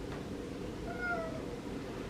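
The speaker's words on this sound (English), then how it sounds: "He's meowing at me." A recovering cat named Boo gives a single soft meow midway, faint against a low steady room hum, with no talking.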